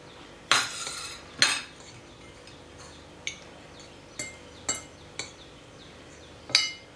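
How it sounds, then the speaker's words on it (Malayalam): A spoon stirring egg mayo sandwich filling in a bowl, sharp clinks of metal against the bowl at irregular intervals with quiet soft mixing between them, close up, no speech. "ഇതൊന്ന് നന്നായിട്ട് മിക്സ് ചെയ്ത് കൊടുക്കണം"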